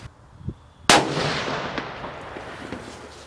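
A single sharp rifle shot fired through a Hikmicro Alpex Pro A50PL digital scope cracks loudly near the start, followed by a long reverberating tail that fades slowly outdoors.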